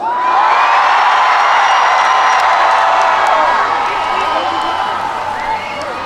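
Concert crowd at a singer's performance at the Chungju Dive Festival roaring with sustained cheers, shouts and whoops, loud and dense throughout, easing slightly toward the end.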